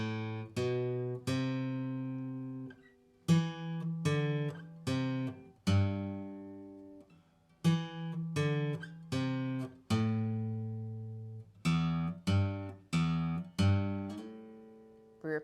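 A guitar plays a riff: clear solo plucked notes and chords ring out and decay in a steady, repeating pattern, close and unaccompanied.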